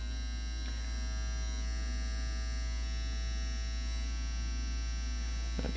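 A budget tattoo machine, the CPT INK Captain One, buzzing steadily with a stiff hit while its voltage is turned up and down, giving a close, continuous electric whine that shifts slightly in pitch.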